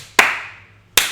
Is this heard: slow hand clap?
yes